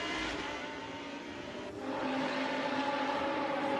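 Lamborghini Super Trofeo race cars at Autodromo di Imola run through the chicane, giving a steady, loud engine drone that swells slightly as they pass.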